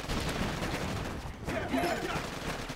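Heavy gunner troop firing in the Boom Beach mobile game, a dense continuous burst of rapid gunfire crackling at moderate volume for the whole clip.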